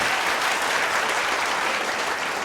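Audience applause fills a hall after a Tamil talk on heart health, a dense, steady wash of many hands clapping at moderate loudness, unbroken for the whole stretch with no voices over it.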